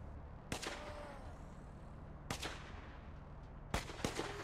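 Three sharp gunshot bursts from the zombie survival game Infection Free Zone, spaced about 1.5 to 2 seconds apart, each a brief loud crack with a trailing echo over a low ambient hum.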